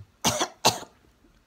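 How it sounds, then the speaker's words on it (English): Two sharp, close coughs in quick succession, then quiet. "I don't have corona, I'm just coughing"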